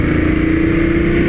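BMW F 750 GS motorcycle, 40th anniversary special edition, being ridden on test, its engine holding a steady, loud drone with a sustained tone throughout.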